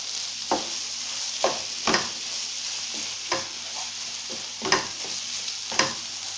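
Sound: stirring tuna and vegetable filling in a pan

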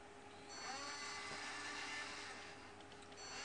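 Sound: Picaxe-controlled 5-axis robot arm motor moving

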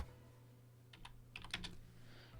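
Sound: typing code on a computer keyboard

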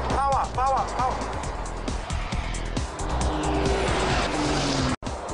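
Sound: racing truck engine revving at speed

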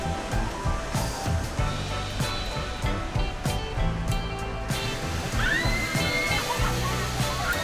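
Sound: Tad Fane waterfall rushing water

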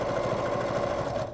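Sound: sewing machine stitching on bias binding

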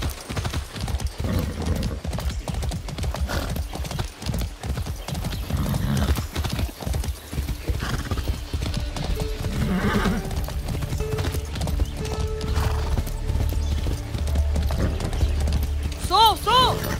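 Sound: horse hooves clip-clopping in Far Cry 6 video game

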